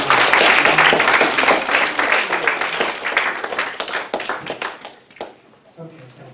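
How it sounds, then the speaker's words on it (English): Lecture hall audience breaking into applause, loud dense clapping at first that thins into scattered claps and fades out, with a voice speaking over part of it. "let's give them a round of applause for doing that"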